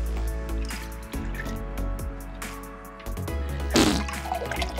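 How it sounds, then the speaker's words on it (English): Water and a splash of ammonia pour into a beaker, producing faint trickling and sloshing liquid sounds with brief splashes, set against background music. "in this next beaker, I'm gonna add just a little bit of water and a splash of ammonia."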